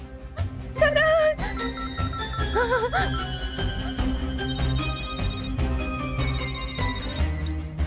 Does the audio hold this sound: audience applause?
no